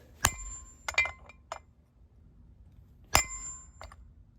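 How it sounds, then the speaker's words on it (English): A front wheel bearing is tapped onto the spindle of a 2001 Ford F150 2WD. A few sharp metallic clinks ring out close by: one, a quick pair, then another, with short bright tails and quiet between them. "It'll catch that bearing, and give the thing just some taps."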